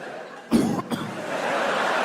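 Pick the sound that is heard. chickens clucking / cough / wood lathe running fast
cough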